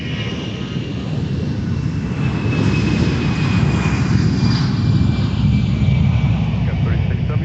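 An Airbus jet at the airport roars steadily throughout, a loud broadband engine rumble with a thin whine above it, swelling slightly in the middle as it passes close by.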